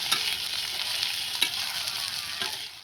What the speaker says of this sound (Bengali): এখানে পেঁয়াজ, লঙ্কা, আদা, রসুন কুচিটা ভাজা ভাজা হয়ে গেছে